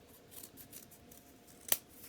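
Scissors cut strips of paper, giving faint rhythmic snips in a quiet room followed by one sharper, distinct snip near the end.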